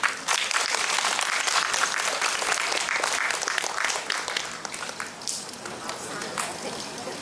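Audience applause for a husband-and-wife harmonica duo, dense steady clapping that carries on for several seconds and slowly thins, with a few voices mixed into the crowd noise.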